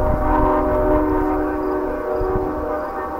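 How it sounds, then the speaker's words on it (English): A high-speed train rumbles steadily nearby with a low, continuous roar and faint tonal whine, loud throughout with no voices. "It's a high-speed train going that way."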